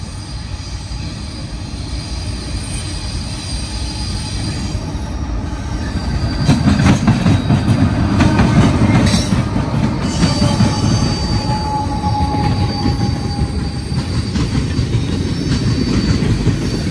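A Triple Crown RoadRailer freight train rolls past close by, a loud continuous rumble of wheels on rail with squealing and clattering that swells midway and holds steady to the end.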